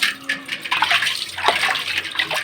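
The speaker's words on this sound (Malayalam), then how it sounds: "ഈ പാത്രം കഴുകി എല്ലാ വീട്ടമ്മമാരും നേരിടുന്ന വല്ലാത്തൊരു വെല്ലുവിളിയാണ് അല്ലേ." Tap water runs steadily while dishes are washed at a kitchen sink, a close, continuous splashing stream with small clinks and shifts as the flow hits the vessels.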